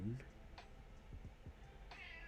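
A cat gives a brief, faint meow at the start, followed by low indoor background noise with soft ticking and shuffling and a faint, higher cry near the end.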